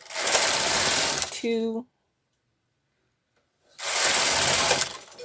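A knitting machine carriage runs across a row in two loud mechanical passes, a sustained whirring rasp before and after a silent pause, with a brief spoken word just before the gap.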